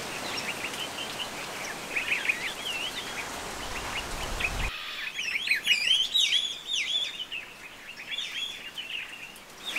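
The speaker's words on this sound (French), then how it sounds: "C'est impressionnant le nombre d'oiseaux qu'il y a tout autour de nous." Many birds call and chirp continuously around a wadi with flowing water in Dhofar, Oman. The calls are dense and overlapping, with some quacking, over a steady water-like hiss. Partway through, the birdsong grows brighter and closer.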